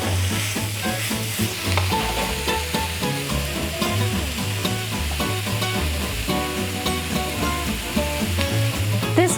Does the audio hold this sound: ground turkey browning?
yes